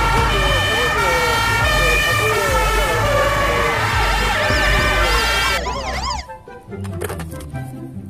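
Toy fire truck siren, loud and close, with a rapid warbling wail repeating over a rumbling motor. It cuts off near the end, leaving quieter clatter and a brief voice.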